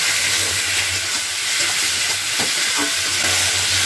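Bhola fish stir-frying in a pan, a loud, continuous close sizzle and hiss with occasional stirring scrapes and a low steady hum underneath.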